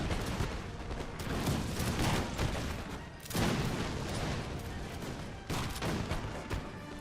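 Musket volleys in a Napoleon: Total War battle, with dense bursts of rolling gunfire, several loud overlapping salvos crackling one after another with brief lulls between, no talk.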